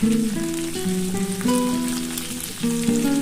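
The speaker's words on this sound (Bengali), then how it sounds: "আর এই কুলমুটিগুলো দিয়ে ভালো করে ভেজে নিই" Malabar spinach stems and potatoes fry in a pan with a continuous close sizzle, overlaid by steady tonal music throughout.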